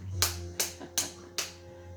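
Four sharp hand sounds, claps mixed with finger snaps, spaced about a beat apart, close and alone over a low steady hum during an at-home stretch and strengthen session.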